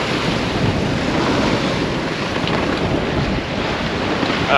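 Strong, steady wind of about 28 knots roars across the microphone on a sailboat in the English Channel, with rushing water and waves beneath it and no voices.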